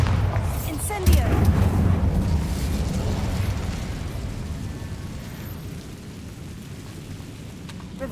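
Spell explosions in Hogwarts Legacy: a Bombarda blast followed by an Incendio burst, with a booming hit near the start giving way to a long, crackling, rain-like roar that slowly fades.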